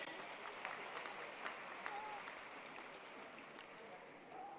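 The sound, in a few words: loud clapping to welcome minister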